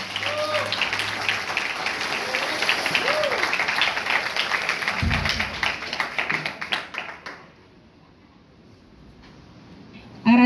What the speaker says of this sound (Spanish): quiero que me le den un fuerte aplauso,